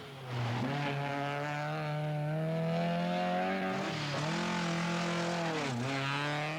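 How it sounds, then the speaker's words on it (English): A 1982 saloon-car race: a single racing car's engine roars loud and close on the track, its pitch climbing steadily with two brief dips like gear changes, continuous throughout with no talk. "Ian Cathcart seems to have got his racing lines perfectly sorted out now"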